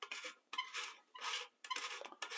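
Threaded base of a glass fount oil lantern being unscrewed, a series of quiet, close scraping and rubbing turns in short bursts with brief pauses between them.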